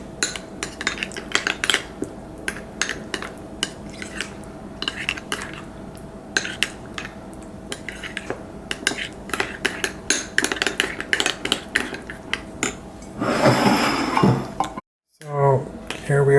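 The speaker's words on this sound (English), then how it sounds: "we're going to put in our peri peri sauce and give it a good mix." Spoon scraping and clinking in a bowl while mixing mayonnaise, mustard and peri peri sauce for malai chapli kabab, steady rapid metallic taps, loud and close, with someone talking near the end.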